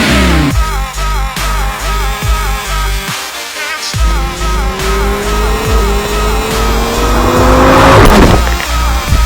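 An Audi R8 sports car roars close by in a race against a Phantom 4 drone, its engine revving and climbing in pitch with tire squeal, loud and continuous throughout.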